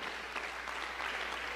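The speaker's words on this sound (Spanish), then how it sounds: "Dale aplauso al Señor que vive y reina para siempre." Congregation at a church service applauds in a steady, dense wash of clapping that holds evenly for the whole moment, with no voices standing out.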